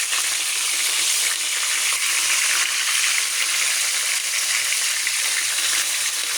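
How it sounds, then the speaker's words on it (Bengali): Rohu fish pieces frying in hot oil until red-browned, a dense, continuous high sizzle that stays loud and even throughout with no voices. "তেলে ভেজে আমি সবগুলো রুই মাছ এভাবে ভেজে উঠে নেব, ভালো করে লাল লাল করে ভেজে নেব।"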